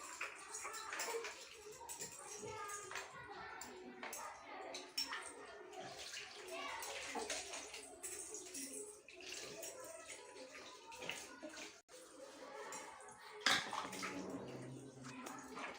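Water is poured repeatedly over a small child's body during a traditional bath, splashing and trickling in uneven bursts while someone talks quietly throughout.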